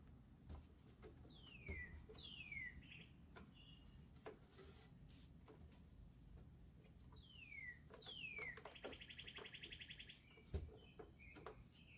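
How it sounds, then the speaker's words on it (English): Several birds chirp and tweet outside, with repeated downward-sweeping calls and a short buzzy trill over a low steady background hum. "I'm sitting by the window, and the birds are going crazy"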